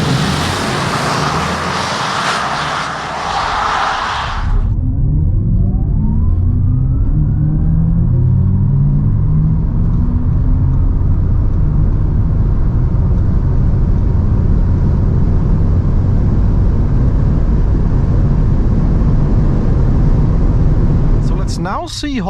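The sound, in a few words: Audi RS e-tron GT electric car accelerating 100 to 200 km/h on Autobahn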